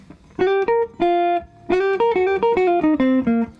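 A clean, bright electric jazz guitar plays through a Combs JJ-150 pedal on its bright setting, a short melodic phrase of single notes, clear and sustained, with brief pauses between phrases.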